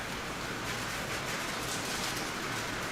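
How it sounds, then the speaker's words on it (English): Rain falls steadily and evenly, a dense close hiss of drops on a surface that holds constant throughout with no other sounds. "You hear that rain? I hear it."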